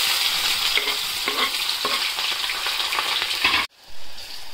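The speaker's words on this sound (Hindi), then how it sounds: "जीरा भून रहा है, प्याज डाल रही हूँ।" Onions sizzle and fry in hot oil with roasted cumin while being cooking for khade baingan, a loud steady crackling hiss with stirring scrapes, cutting off abruptly near the end.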